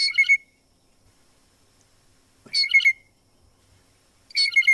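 Three bursts of harsh, raspy blue jay calls, each a short cluster of nasal squawks, spaced about two seconds apart with quiet between, fairly close and clear.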